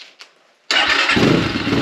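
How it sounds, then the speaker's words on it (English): An X Pro Templar 250 motorcycle engine starts abruptly after a brief silence and settles into a loud, steady close idle with the idle speed raised. "I turn up the idle a little bit. Idle sounds really low."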